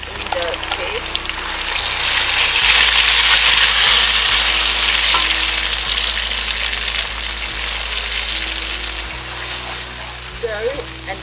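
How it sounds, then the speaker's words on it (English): Mee rebus paste fries in cooking oil while being stirred, a loud, close sizzle that swells to a steady roar and then eases slightly, with a low hum beneath. "Stir it and cook it for about 30 minutes on medium."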